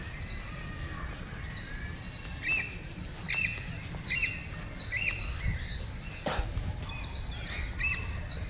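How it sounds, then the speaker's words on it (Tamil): A cockatiel at Guindy children's park calls in a string of short, repeated chirps about a second apart, clear above a steady low outdoor rumble with faint background noise. "கொண்டை கிளி. இந்த பறவை தான் கேட்டுள்ளது."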